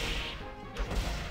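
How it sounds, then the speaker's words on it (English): A single heavy smash lands as a Triceratops unleashes a triple headbutt attack in the Dinosaur King arcade game, a sharp crashing impact over busy arcade background noise. "The triple headbutt coming in, gonna bust those kneecaps"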